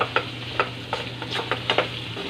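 Tomatoes are stirred and sautéed in a pan, a spatula scraping in about seven quick rhythmic strokes over a soft sizzle, close and with no voices.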